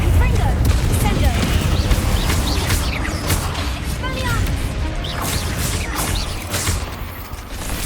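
Repeated Confringo fire-spell blasts in the video game Hogwarts Legacy, dense bursts and crackling impacts layered over constant game noise and combat clatter, with voices calling out spells.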